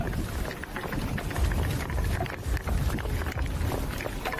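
Gusty wind building on a hot day at a fueling depot in Brazil, buffeting the microphone with a loud, rough rumble that swells and surges in waves.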